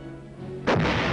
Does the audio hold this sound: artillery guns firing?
yes